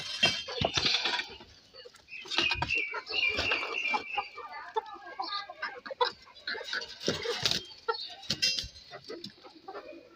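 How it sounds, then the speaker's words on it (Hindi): Chickens cluck and squawk in quick, irregular bursts close by as their coop is opened, with scattered knocks and rustling mixed in, fairly faint overall. "और अभी मैं खोलने लगी हूँ मुर्गे।"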